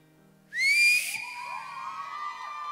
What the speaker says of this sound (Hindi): सीटी मार दें क्या आप लोगों के लिए?